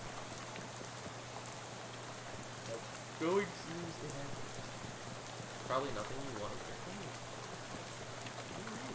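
Steady rain falls in the Shadows Over Loathing game, making a soft, even patter under quiet talk, with a couple of brief louder splashes.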